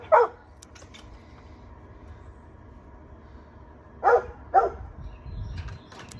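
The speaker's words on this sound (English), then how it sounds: "my service dog is going crazy because she doesn't want me out here by myself" A service dog barks outdoors in a garden, one sharp bark, then after a long pause two more quick barks close by, over a low steady background hum.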